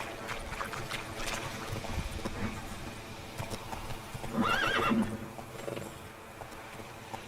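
A horse in The Witcher video game gives a loud, wavering whinny near the middle of the clip, rising over a steady bed of game ambience and soft hoofbeats.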